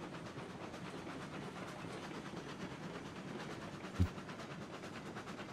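A steam locomotive from the railway video game Railroads Online rolls along with a steady hissing, chugging rumble and faint rhythmic clatter, plus one brief low thump partway through; quiet and continuous, with no talk.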